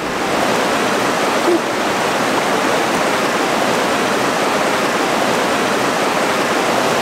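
A waterfall roars as a steady, dense rush of falling water, close and loud throughout with no break, heard alone without voices.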